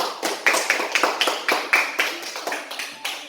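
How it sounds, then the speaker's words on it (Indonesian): A small classroom group claps for group 2 after their presentation on series circuits, with a dozen or so distinct, fairly regular claps at close range, some rhythmic unison in the pattern, and no talking over it. "Kepada kelompok 2 kita beri tepuk tangan dulu"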